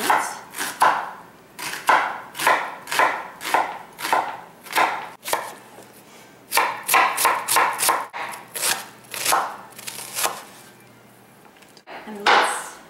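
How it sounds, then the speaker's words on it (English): Onions chopped with a knife on a cutting board, loud close rhythmic bursts of rapid knife strikes in runs separated by brief pauses, no speech. "I'm just going to chop some onions"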